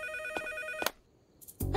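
A cartoon telephone ringing in the middle of the night: a bright electronic ringtone with short repeated chimes, a brief pause, then another loud burst.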